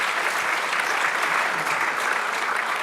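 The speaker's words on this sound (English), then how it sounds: "Give another round of applause, please," Sustained, loud applause from a conference audience for a health investment panel, a thick continuous roar of many hands clapping close by without a break.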